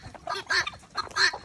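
Farm birds, including Americana chickens and honking geese or ducks, calling at morning feeding: a quick burst of several loud, nasal honks close by, with no talk.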